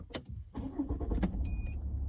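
A Volvo S60 Cross Country starts up with a keyless push, a short crank and catch into a close engine rumble, followed by a brief high electronic chime.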